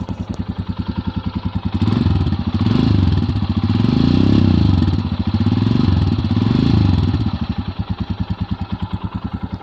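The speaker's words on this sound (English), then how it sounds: "So I would just like to rev it a bit and show you how it goes." A Royal Enfield Himalayan BS6 motorcycle, Rock Red, idles with a steady thump, then revs up in several rising and falling swells before settling back to a loping idle, close and loud.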